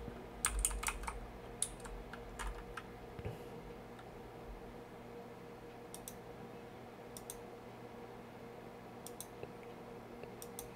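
Someone types on a computer keyboard: a few quick bursts of light key clicks, then scattered single taps spread over a quiet room with a low steady hum behind them.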